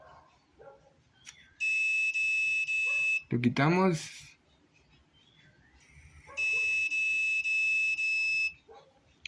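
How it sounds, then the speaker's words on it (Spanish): Buzzer alarm on a home-automation sensor circuit at 100 Hz, sounding in two steady, loud blocks lasting about two seconds each, separated by a brief spoken exchange. "el buzzer se activa, la alarma a una frecuencia de 100 Hz."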